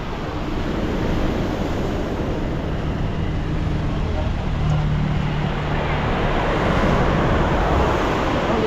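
Surf pounding steadily on Casapsapan Beach in Casiguran, Aurora, a continuous broadband wash of waves with wind noise, under excited shouting and chatter from a group at a team-building outing.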